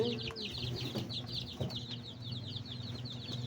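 Chickens cluck repeatedly in quick bursts, moderately close, over a low background hum with a few soft knocks.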